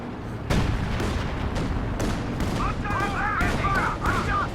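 Rocket artillery fire from a Panzerwerfer in the Company of Heroes 2 video game: a loud, dense barrage of booming launches and blasts rolling on in quick succession, with some shrill whistling tones rising in the second half.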